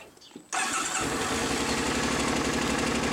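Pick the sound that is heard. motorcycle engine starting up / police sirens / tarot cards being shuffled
motorcycle engine starting up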